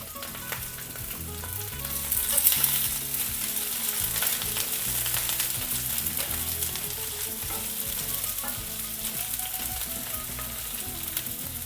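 Chopped onions and capsicum sautéing in a pan for a fish curry, a steady close sizzle and crackle with some stirring, continuing throughout without talk.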